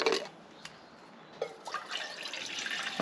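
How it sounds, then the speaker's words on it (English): Water is poured into a camping pot beside a DIY prepper stove, a close, splashy trickle that comes in uneven bursts and grows steadier toward the end, with no talking. "Just place some water in it."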